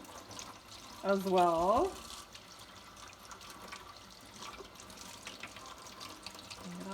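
Tap water running over eggs for a rinse in a sink, a faint steady trickle and splash under the running tap, with a voice speaking briefly over it.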